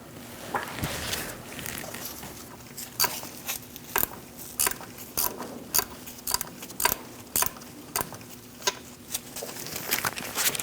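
A ratchet clicks in repeated short strokes while loosening the last wheel hub bolt on a 2000-2006 Mini Cooper, sharp metallic ticks in uneven bursts over a low background hum.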